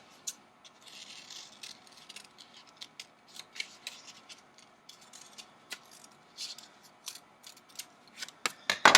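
Scissors cutting out a paper shape for a craft project: a close, steady series of crisp snips and blade clicks at an irregular rhythm, with light paper rustling and no talk.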